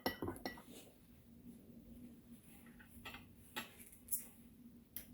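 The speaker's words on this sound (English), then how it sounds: "I'm going to put 1 or 2 drops of red, and then I'm going to mix it up" A spoon clinks and taps faintly and sporadically inside a glass jar while red food colouring is stirred into liquid, a few sharp, light ticks over a quiet background.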